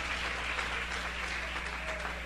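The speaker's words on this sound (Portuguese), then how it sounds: "eu sugiro você aplaudir a Jesus" A church congregation applauds during a worship service, a steady, moderately quiet wash of many hands clapping over a low electrical hum.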